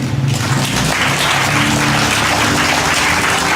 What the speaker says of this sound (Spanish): ¿No pudieran dar un aplauso a Jesús por ello?